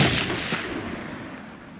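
.270 rifle fired while hunting red deer in New Zealand: one loud, close gunshot with a sharp crack that rolls off into a long fading echo.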